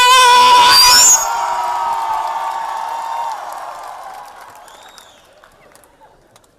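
A comedy show audience shouts and cheers loudly at once, then the crowd noise fades into a lingering murmur of voices over several seconds.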